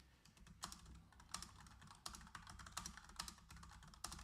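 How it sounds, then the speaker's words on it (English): Typing on a computer keyboard, quick irregular bursts of soft clicks and taps, close but quiet, with a few firmer keystrokes standing out and no talking over them. "I'm typing it in chat for everybody."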